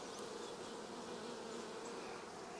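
Honeybees hum steadily at an open, queenless hive during a beekeeper's frame inspection, a faint continuous drone with no voices over it.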